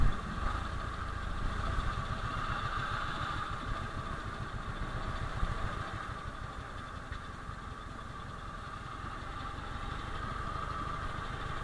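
A Ford Model T engine, throttle worked by hand, chugs at an even idle-like pace through a ride, steady and fairly quiet, with a faint rhythmic vibration underneath.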